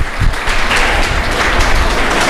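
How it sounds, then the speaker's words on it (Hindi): Loud, close applause for a speaker at a gathering, a brief dense wash of clapping with no voices over it. "सर के लिए जोरदार तालियां हो जाएं।"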